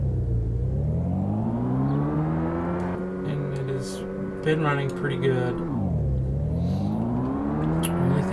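Engine noise from cars in the PollyTownMadness video game hums steadily with pitch rising and dipping as the vehicles accelerate and slow, and someone talks over it.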